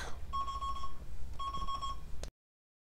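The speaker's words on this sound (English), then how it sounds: "that beeping was my portable weather alert, AM/FM weather alert radio" A portable AM/FM weather alert radio beeps in two sustained electronic tone bursts, each lasting about half a second or more, sounding clearly indoors against a quiet background.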